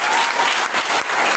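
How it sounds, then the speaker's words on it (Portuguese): A church congregation clapping together during a service, a dense, loud burst of applause filling the room for a brief moment. "dá uma salva de palmas para o Rei Jesus."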